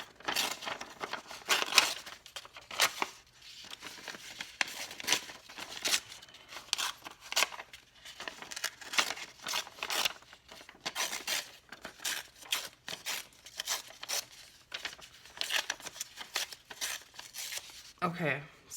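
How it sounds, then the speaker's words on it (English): Paper torn by hand into random shapes for a lilac journal cover, with repeated short ripping bursts close up and brief pauses between tears. "So I'm just gonna really quickly randomly rip some different shapes out of this."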